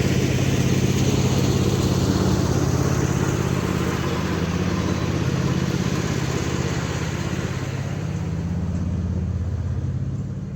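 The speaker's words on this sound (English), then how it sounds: "Just need to get tractor away." A tractor engine running steadily on a farm, a loud low rumble that slowly fades as it is driven away.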